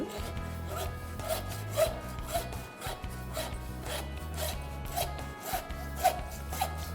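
A hand saw rasps back and forth through wood in a steady rhythm of strokes, close and continuous, with no voices.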